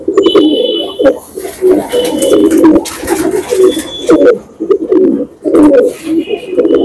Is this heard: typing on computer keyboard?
no